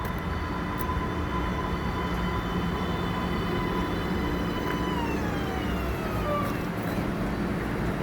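An MBTA Green Line train rolls steadily toward Eliot, with loud constant rumble and wheel noise and a high tonal whine that glides downward as the car slows.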